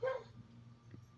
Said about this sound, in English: Sorry about that. That is my dog Scooby